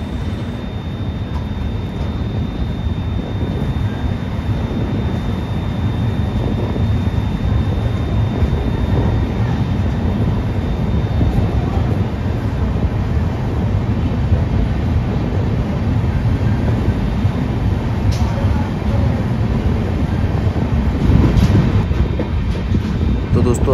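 The Devagiri Express rolls steadily at night after leaving Aurangabad, a loud continuous rumble with rhythmic wheel clatter filling the whole stretch, faint voices now and then beneath it.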